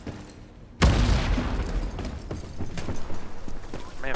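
A frag grenade detonates in the first-person shooter Ironsight, a sudden loud boom followed by rolling rumble and scattered distant gunfire under game noise.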